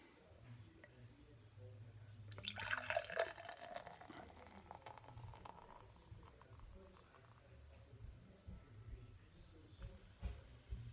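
Anchor Steam beer pours into a glass with a soft, foamy gurgle that swells into a huge head and then fades into quiet fizzing, with faint background noise.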